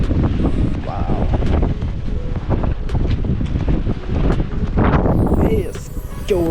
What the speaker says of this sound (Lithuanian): Vėjas kiaurai veria.